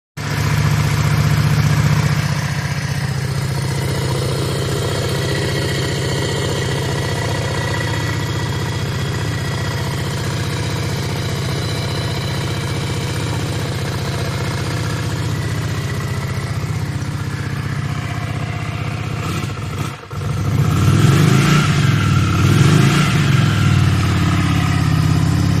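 A 1983 Yamaha Virago motorcycle engine, freshly fitted with a new petcock, runs at a steady, close idle with no voices, then gives a short burst of revving near the end.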